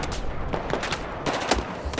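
Rapid rifle gunfire crackles through a firefight in the video game Battlefield 4, a dense run of sharp shots with some louder cracks, steady and close with no talk over it.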